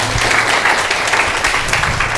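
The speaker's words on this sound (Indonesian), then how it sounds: "Boleh tepuk tangan lah ya untuk." Audience applause at a university open house for an earth sciences and technology faculty in an auditorium: dense, steady clapping from a large crowd, loud and continuous throughout with no talk over it.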